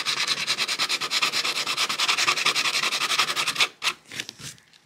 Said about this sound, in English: I'm gonna come in with the sandpaper again and I'm gonna go around the edges to try and blend it in a little bit better